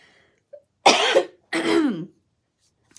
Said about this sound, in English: Now I have this little annoying like cough trying to clear my lungs still.